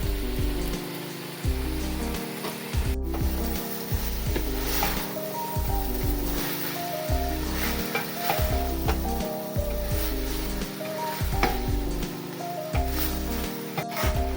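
Two colours of capsicum stir-frying in a pan for egg fried rice give a steady close sizzle with occasional spatula stirs. It runs unbroken with no talk, and faint tonal background sounds sit underneath.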